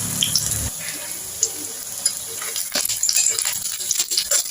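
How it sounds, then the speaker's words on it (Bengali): Gram flour fritters seasoned with turmeric and salt frying in hot oil, giving a steady sizzle with scattered pops and clinks throughout. "এই বড়া ভাজা, গরম গরম ডাল ভাত,"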